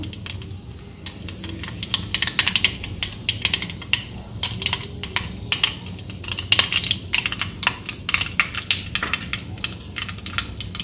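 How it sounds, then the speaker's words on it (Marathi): Mustard seeds and cumin sputter in hot oil with dense, irregular crackling and sharp little pops, close and fairly loud over a low background hum, and no one speaks. "इथे आपली मोहरी तळतळली आहे, इथे आपण जिरं टाकून द्यायचं आहे।"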